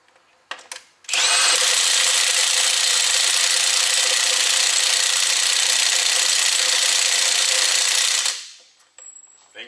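A cordless 1/2-inch impact wrench tightens a bolt, giving one loud, continuous hammering burst of about seven seconds that stops abruptly, with brief clicks before and after.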